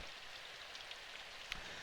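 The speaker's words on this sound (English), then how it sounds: "The falling rain was cold" Steady cold rain falling outdoors, a soft continuous hiss with a faint patter and one brief sharper drop near the end.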